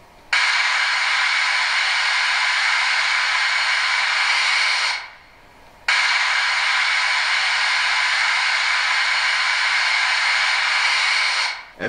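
The digital sound decoder of a Brawa class 01 model steam locomotive with a new-build boiler, Epoche IV, plays its safety valve effect: two sustained bursts of bright, even hiss separated by a brief silence.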